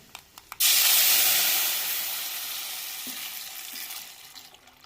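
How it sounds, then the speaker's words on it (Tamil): Tamarind water mixed with coconut milk poured into a hot pan of tempered chillies and curry leaves for rasam, bursting into a loud sudden sizzle that slowly fades into a softer steady hiss. "தேங்காய் பாலோட கரைச்சி வச்ச புளியும் சேர்த்துக்கிறோங்க."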